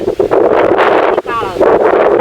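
Strong wind, full gusts whirling and shaking leaves loose, buffets the microphone in a loud, steady roar, swelling and dipping in gusts.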